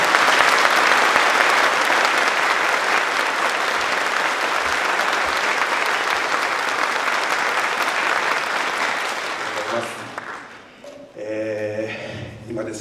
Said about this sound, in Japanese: 福知山高校の皆さん、そして福知山整備高校の皆様に大きな拍手をお願いいたします